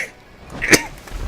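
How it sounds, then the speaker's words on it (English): A person lets out a single short, sharp sneeze, close to the microphone, with quiet background before and after. "Excuse me, I know I sneeze weird."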